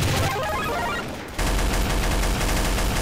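Rapid bursts of gunfire from a gun in the PC shooter Counter-Strike: Source, loud and close, with a brief lull before a dense stream of shots resumes to the end.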